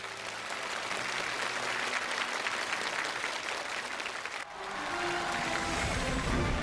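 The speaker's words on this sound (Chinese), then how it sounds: "让我们在这里再一次用我们最热烈的掌声向我们的周桥旅官兵" Studio audience at a televised Chinese gala show applauding in a dense, sustained roar of clapping, continuing loudly throughout.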